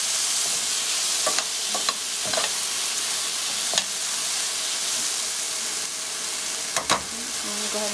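Garlic and tomato sautéing in a pan for Mexican red rice, a steady loud sizzle with a few sharp clicks and scrapes of a utensil stirring at irregular moments.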